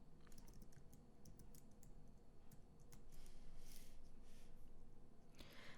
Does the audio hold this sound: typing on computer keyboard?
yes